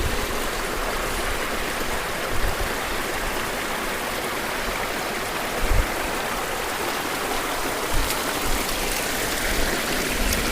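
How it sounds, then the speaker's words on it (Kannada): Steady rushing water of a forest stream flowing from under a boulder at the Kali River source, a broad even wash with occasional small splashes, close by and with no voices. "ಈ ಕಲ್ಲು ಬಂಡೆ ಇದೆಯಲ್ಲ, ಕಲ್ಲು ಬಂಡೆಯ ಅಡಿಯಿಂದ ನೀರು ಹರಿತಾ ಇದೆ."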